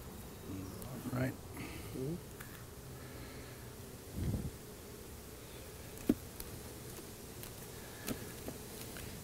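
Honeybees hum and buzz faintly around an open hive frame holding honey being capped, with brief louder buzzes as bees pass near and soft handling noises, while people talk quietly.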